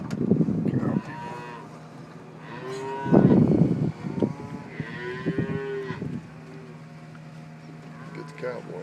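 Several cows moo repeatedly during a cattle drive with spring calves, loud, close bellows recurring throughout, mixed with voices of onlookers chatting nearby.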